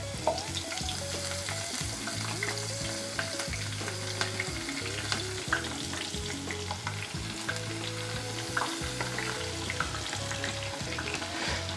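Leeks frying in hot oil give off a dense, continuous sizzle with bubbling crackles and occasional stirring clatter, close and steady throughout, with no voices.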